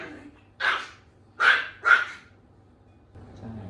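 A dog being trained barks aggressively, three sharp close barks in quick succession, loud against a quiet background with a faint low rumble between them.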